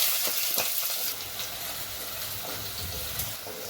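Steady sizzling of onion frying in hot oil for chicken biryani, with a few soft stirring clicks, continuous and close throughout.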